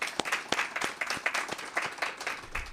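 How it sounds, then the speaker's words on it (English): Audience at a letter-of-intent signing day clapping for mentors, parents and teachers, a moderate round of distinct hand claps from a modest crowd, fairly quiet and brief. "Let's give them a round of applause."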